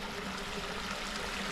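A tiny waterfall about six inches high pours under a bridge along a lakeshore trail, a steady, faint broadband rush of water that sounds hollow and echoing, with no talking.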